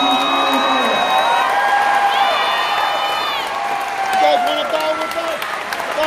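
Audience applause and cheering fill a Video Games Live concert hall in Berkeley, a sustained crowd roar with whoops alongside people talking.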